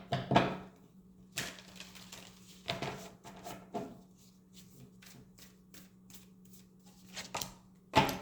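Tarot cards are shuffled by hand in several separate bursts, with crisp riffling and slapping rustles spread across the stretch and a low steady hum running underneath, close by and with no voices.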